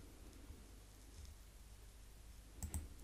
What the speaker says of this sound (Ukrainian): Клацаючи по слайду, нічого не відбувається.